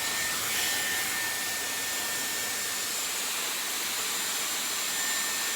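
Steady, loud rushing air from a Dyson Airwrap hair styler with a large barrel attachment, a continuous close whoosh with a faint high whine and no talking.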